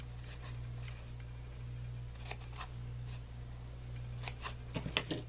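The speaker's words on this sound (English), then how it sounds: "I'm just going to have to cut the last 2 here." Scissors snip through craft foam pieces for a small foam basket, giving quiet, close, irregular clicks and cuts that cluster toward the end with no talking.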